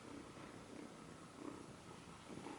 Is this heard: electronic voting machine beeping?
no